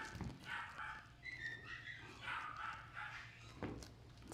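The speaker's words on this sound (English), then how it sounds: "that's two little dogs making all that noise" Two small dogs at a grooming salon bark and yip continuously, their rapid high-pitched barks overlapping at moderate volume and sounding like a much larger pack.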